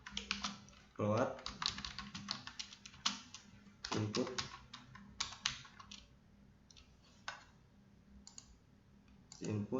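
Code is typed on a computer keyboard in quick irregular bursts of close clicks and key taps, with a few heavier keystrokes.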